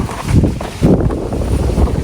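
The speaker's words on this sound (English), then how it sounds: "it is windy today, so it's blowing that thing all around" Gusting wind blowing outdoors across a microphone during car interior detailing, a loud continuous rumble that swells in pulses.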